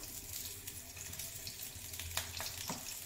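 Pointed gourds frying in mustard oil in a pan make a soft, steady sizzle up close. A few sharp clinks and scrapes from stirring stand out near the end.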